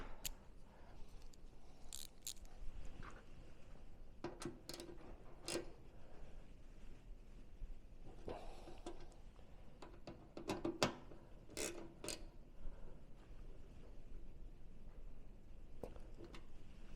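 A ratchet tightens the top fitting on the fuel tank of a bespoke Honda CB1000R motorcycle, with quiet bursts of clicking pawls spaced across the stretch in a near, otherwise hushed workshop.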